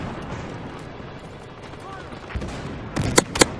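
Gunfire in the video game Battlefield Hardline: a steady rumble of distant shooting with two or three sharp, louder shots bursting out near the end, while a voice talks in the background.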